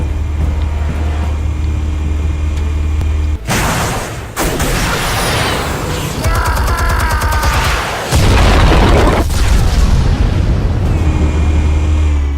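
Explosives detonating in a Batman video game create loud, sustained booming blasts with a rumbling low end, several heavy bursts breaking through a continuous roar of game sound.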